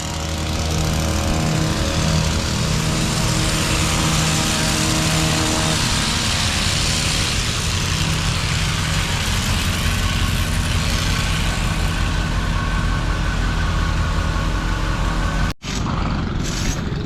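A powered hedge trimmer cuts along a hedge toward a telephone pole, its motor droning loud and steady for the whole stretch before cutting out abruptly near the end, with faint voices in the background.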